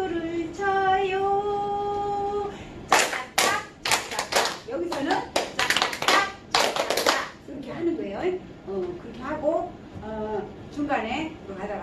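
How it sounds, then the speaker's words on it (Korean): Rapid bursts of hand clapping from a group doing a seniors' exercise dance to music, loud and close, in quick rhythmic runs, mixed with a sung or chanted voice before and after. "박수를 쳐요."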